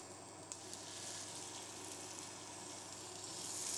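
Scallops sear in smoking-hot olive oil in a pan, giving a steady, close sizzle that holds for a few seconds and swells slightly toward the end, with no talking.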